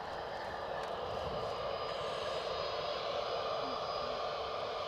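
British Airways aircraft at Edinburgh, a faint, distant steady engine hum and hiss that holds evenly, with no talk over it.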